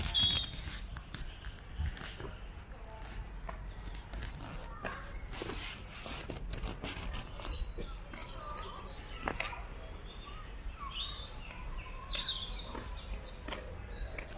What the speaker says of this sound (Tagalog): Naririnig nyo, may mga ibon. Dami ibon dito.